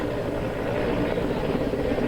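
An Indian Air Force helicopter hovering during a flood rescue near a river bridge, a continuous rotor and engine drone that stays moderately loud and unbroken.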